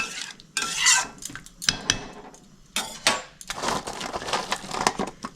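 Small mourola fish go into a pan of kochur loti cooking with a little water over high flame, producing several close bursts of sizzling and clattering with utensil scrapes between them.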